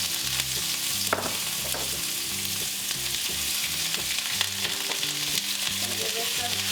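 Onions, broccoli and carrots fry in hot oil in a pan for pork fried rice, a steady loud sizzle broken by the occasional scrape of stirring, with no talking.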